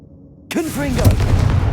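The Confringo explosive spell in Hogwarts Legacy lands abruptly after a brief quiet lead-in, turning into a loud, booming burst with a rumbling tail and a tonal, voice-like cry mixed in.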